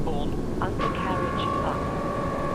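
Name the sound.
Eurofighter jet taking off on afterburners, flight video game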